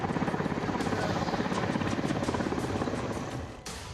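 A helicopter in Afghanistan drones loudly overhead, its rotor blades chopping in a fast, steady pulse under a roaring engine, close and continuous, with a sudden shift in the noise just before the end.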